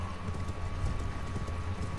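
Horse hooves clopping steadily while riding a horse in the video game Elden Ring, a continuous rhythmic gait under a low rumbling ambient bed, with no voices.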